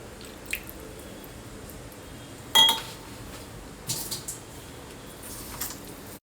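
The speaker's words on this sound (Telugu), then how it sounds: "ఇప్పుడు కొంచెం ఒక 2 స్పూన్ల నీళ్లు తీసుకుని కలుపుకుందాము." A couple of spoons of water are mixed into semolina dough, making faint, sparse wet squishes and a soft clink against a quiet background.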